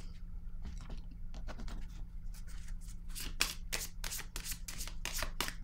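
Tarot cards shuffled and handled by hand, quick riffling bursts growing denser and louder toward the end over a low steady hum.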